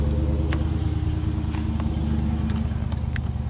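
A car with push-button start-stop idles with a steady low engine rumble, broken by a few faint clicks and ticks.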